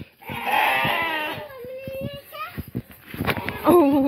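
Sheep bleat in a rain-soaked sheep shed, one long wavering bleat up close followed by shorter cries, while someone talks nearby.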